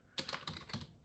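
Several quick, light keystrokes on a computer keyboard, a short run of clicks close by in a quiet room.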